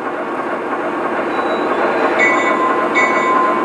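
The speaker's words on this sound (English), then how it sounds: "the bell will turn on automatically" A model train locomotive runs with its bell ringing as it slows, a steady mechanical rumble under repeated high metallic bell tones that come in brief bursts near the end.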